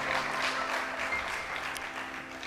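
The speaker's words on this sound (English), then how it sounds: "Another big round of applause, ladies and gentlemen" A crowd at a memorial service gives a round of applause, soft and somewhat distant, a continuous wash of many hands clapping that fades slightly toward the end.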